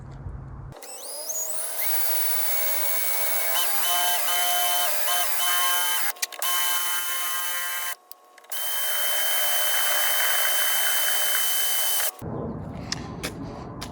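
Drill running by hand into a metal bracket for a catch can on a Saturn Sky Redline, a loud sustained whine with pitch wavering as load changes, briefly stopping twice before cutting off.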